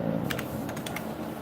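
A handful of computer keyboard keystrokes clack in a quick, uneven burst, close and distinct over a steady low room hum.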